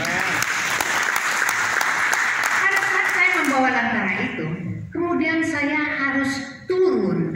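A church festival crowd in Bandung breaks into loud, dense applause, which thins after a few seconds as a voice resumes speaking over the tail of the clapping.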